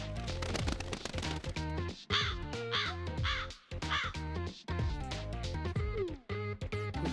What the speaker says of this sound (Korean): 내가 까마귀 소리도 구별 못할까봐?